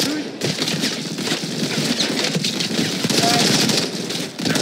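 Rapid gunfire from the mobile shooter Modern Combat, dense bursts of automatic shots and cracks stacking over one another almost without pause, loud and close, with faint voices mixed underneath.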